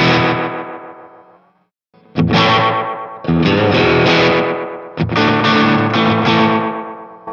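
An electric guitar runs through a Danelectro FAB 600ms delay pedal with the repeat turned up. Strummed chords ring out, then decay into trailing echoes. Fresh strums come at about two, three and five seconds, each followed by lingering repeats.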